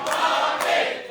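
Crowd at a Malaysia Pro Wrestling show cheering for a wrestler during a match, a brief loud swell of voices and shouts.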